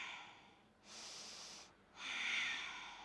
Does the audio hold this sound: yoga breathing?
yes